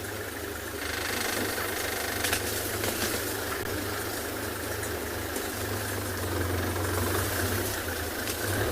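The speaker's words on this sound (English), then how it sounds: "Might hear the vehicle moving." A safari vehicle's engine rumbles as it pulls away, a steady low mid-pitched drone with slight knocking that holds at moderate distance throughout, no talk over it.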